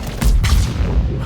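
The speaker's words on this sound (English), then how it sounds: "And the body explosion from warp nearly kills him through the shields." A warp biotic detonation in Mass Effect 3 sets off a body explosion: a loud, dense boom that hits and then rumbles on with sustained low, heavy roar across the whole short burst.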